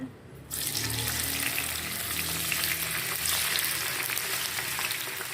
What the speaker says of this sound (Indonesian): Udah cukup panas, kita akan goreng tahunya ya.